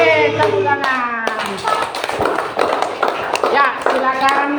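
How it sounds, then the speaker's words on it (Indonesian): Schoolchildren clap their hands in a classroom during a Bible story lesson about Abraham, a burst of close, uneven clapping mixed with a teacher's singing and talking. "tepuk tangan"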